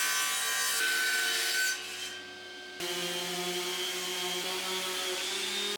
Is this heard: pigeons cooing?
no